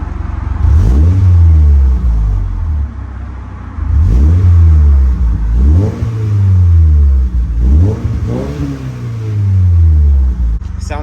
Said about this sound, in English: I'm gonna do a couple revs because I swear it sounds a little different with the tips.